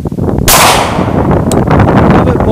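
A Glock pistol fires one loud, sharp gunshot close by, with a short echoing decay, over heavy outdoor wind noise.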